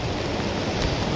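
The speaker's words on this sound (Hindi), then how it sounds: "आज लो जी झरना आ गया" Rushing water from a mountain waterfall near Dharamshala and McLeodganj forms a dense, steady roar that stays loud and unbroken, with no talking.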